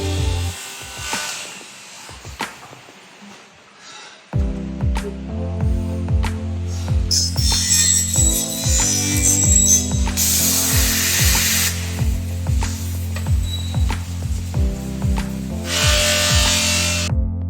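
A CNC cleaning machine processing uPVC window and door profiles, heard as rhythmic electric motor whines that shift in pitch, with intermittent high hissing bursts and clicks from the machinery, loud and close, with no talk.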